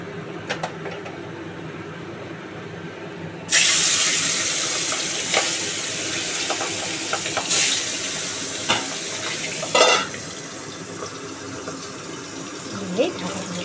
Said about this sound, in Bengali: গরম হয়ে গেছে, আর মাছ তো ভীষণ ফাটে, তাই মাছগুলো দিয়েই আমি ঢাকা দিয়ে দেব।